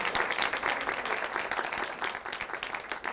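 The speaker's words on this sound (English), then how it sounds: "Can we give Stephanie a round of applause?" Lecture-hall audience applauds Stephanie with steady, close clapping filling the whole moment, no voices over it.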